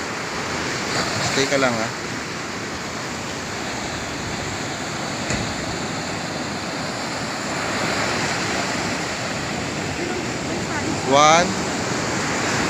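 Ocean waves break continuously on the shore at La Union, a broad steady roar with wind buffeting the microphone, while a voice briefly talks and counts over the surf.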